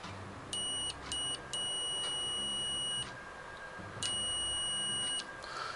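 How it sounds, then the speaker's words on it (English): A voltmeter set to its continuity tone, testing wire running through a hinge. It gives several steady high-pitched electronic beeps of varying length, some short and some held for over a second, against a faint background hiss. "So on my voltmeter I can set it to tone."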